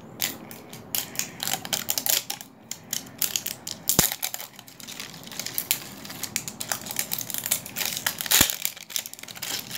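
Plastic packaging of an LOL Surprise toy ball being torn and crinkled open by hand, with continuous crackling and crumpling and a couple of sharp snaps, close and fairly loud.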